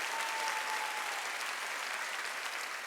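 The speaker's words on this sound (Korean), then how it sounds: "박수 치려고 세게 치려고." A church congregation claps hard in a continuous, dense burst of applause that fills the space evenly at a steady level for the whole stretch.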